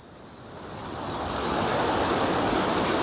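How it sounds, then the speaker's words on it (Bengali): River water at Sahastradhara in Dehradun, flowing in a steady, loud rush with a bright hiss on top that holds without a break and builds slightly toward the end. "এই যে জলটা দেখুন নদীর"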